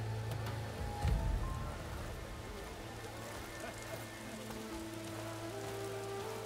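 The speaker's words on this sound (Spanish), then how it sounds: "¿Está lloviendo?" Rain falls steadily in the video game Horizon Forbidden West, a soft continuous patter beneath a low drone, with a brief thump near the start.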